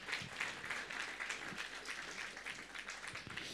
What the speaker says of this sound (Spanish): Vamos a dar una vez más, por favor, fuertes aplausos al grupo Canto de Esperanza